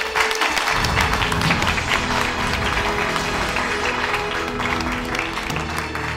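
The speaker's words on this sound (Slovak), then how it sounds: "Potlesk." A television studio audience claps for a school class, producing dense, loud, continuous applause that starts at once and holds steady with only a slight fade toward the end.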